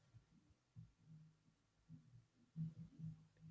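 A heartbeat picked up close and quiet, a soft low thudding pulse repeating steadily with a faint hum underneath and no talking.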